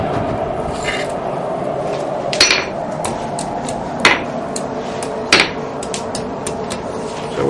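A blacksmith at Fort Gaines hammers hot iron to bend a decorative scroll on the tapered end of a cooking hook, sharp metallic strikes ringing out one at a time at irregular intervals over a steady background hum.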